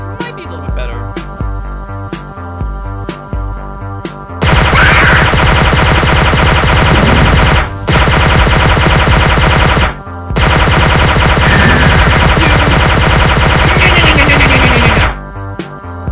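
Shotgun fire in a video game, a dense, loud, continuous barrage of blasts roaring for long stretches with brief pauses, close and overpowering, over a lighter stretch of game noise at the start.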